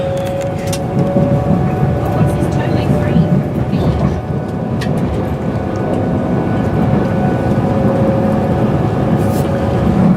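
Inside a Virgin Trains carriage pulling out of Stockport, a loud continuous rumble of wheels and running gear fills the cabin, with a steady tonal whine above it and occasional clicks from the track.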